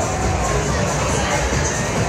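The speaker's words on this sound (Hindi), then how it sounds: "बड़ी भीड़ है यार आगे" Dense crowd noise on a busy Hanoi beer street at night, a steady wash of many overlapping voices and shouts at close range with no pauses.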